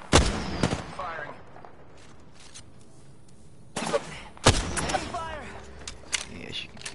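Gunfire from a video game match, with a few sharp shots near the start and a heavier burst of shots in the second half, heard alongside speech.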